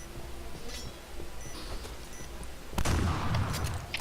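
Video game gunfire bursts out in a point-blank shooter match, a loud sharp volley that kicks in partway through and stays dense, with low background noise before it.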